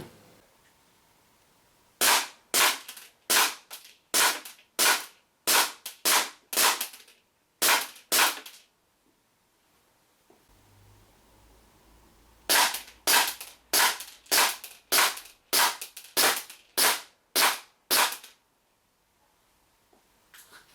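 WE P228 and P226 Mark 25 gas blowback airsoft pistols fire in two strings of sharp, loud cracking shots at an even pace, a quiet pause with a faint low hum between the strings.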